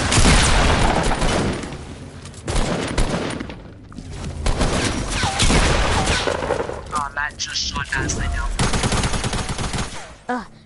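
Rapid bursts of video game gunfire dominate, loud and dense, with dull booms and short gaps, while a voice talks intermittently beneath the shooting.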